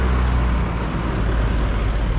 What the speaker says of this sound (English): there's so much traffic here